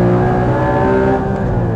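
Porsche Cayman GT4 with a 380bhp engine revving hard on a race circuit, a loud, steady rising engine note with strong harmonics held throughout, close and alone.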